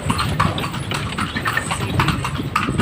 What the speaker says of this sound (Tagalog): Sakay kami ng Alesa. Hindi naman siguro halata na. Ayan, kabayo.